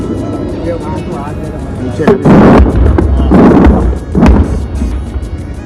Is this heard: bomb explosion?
yes